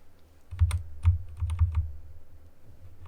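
Clicky keystrokes on a failing wireless computer keyboard, a burst of a dozen or so uneven taps in quick succession, close and fairly quiet, then trailing off.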